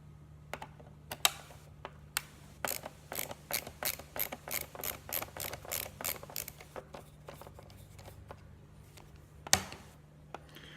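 Screws are backed out of a Big Mouth Billy Bass singing fish toy during repair, producing a quiet, steady series of small ratcheting clicks from a hand screwdriver, with a faint hum underneath and a louder knock near the end.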